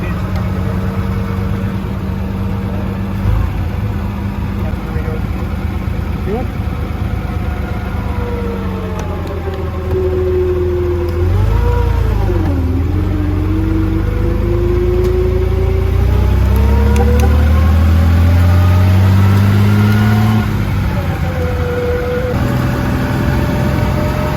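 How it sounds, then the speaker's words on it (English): A classic car engine idles with a steady low rumble, then climbs through revving swells and settles again, loud and close, while people talk over it. "Dad's got to go for a ride in this car"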